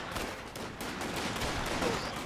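An M20 in Company of Heroes 2 battle lays down rapid gunfire, a dense, continuous crackle of shots at moderate level within the wider din of combat.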